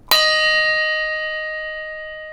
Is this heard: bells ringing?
yes